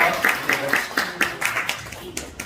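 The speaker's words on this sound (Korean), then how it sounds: "큰 박수로 맞이해주시기 바랍니다" Scattered clapping greets speakers at a Korean church dedication service, a sparse rhythmic patter of hands from a small gathering, fairly close, with a voice speaking faintly underneath.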